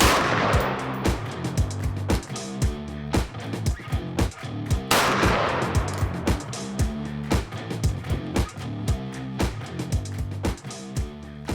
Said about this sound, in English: So I'm going to take this opportunity to actually get this zeroed and do some more shooting